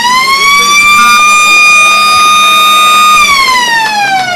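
A full-time siren sounds at a local Australian football match at Balwyn Park, one long loud wailing blast that holds steady, then slides downward toward the end, with no talking over it.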